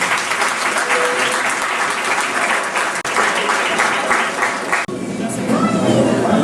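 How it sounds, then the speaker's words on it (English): A large audience at a graduation ceremony applauds the graduates' grandparents, sustained dense clapping with crowd murmur that shifts near the end into looser clapping and chatter. "give a big round of applause to the grandparents of the graduates"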